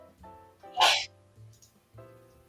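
A loud, sharp sneeze bursts out once in a pub, surrounded by a low hum of background chatter and talking voices.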